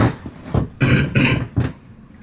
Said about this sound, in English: I've got a bit of a hacking cough as a result